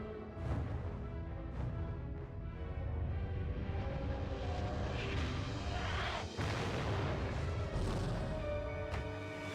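Heavy missile warhead explosions in the video game Jak 2 boom and rumble in succession, with crashing debris and bursts layered over a dense, loud low roar.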